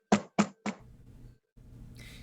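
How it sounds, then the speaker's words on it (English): Three firm knocks on a wooden door in a tabletop Curse of Strahd role-play session, evenly spaced and close, followed by faint low rumble and a brief hiss. "I knock."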